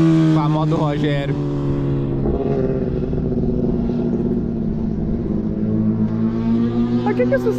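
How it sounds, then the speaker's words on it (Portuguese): Kawasaki Ninja ZX-10R sport motorcycle engines rev and rumble nearby on a race track, pitch rising and falling as they accelerate, with someone talking over the noise. "Por que que esses caras estão acelerando um pouco aqui, hein?"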